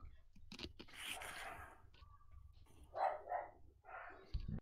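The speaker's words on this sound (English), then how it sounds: "Whose dog was that?" The neighbours' dog barks several times in the distance, a few separate faint woofs spread across a quiet room, with light scratching and handling noises nearby.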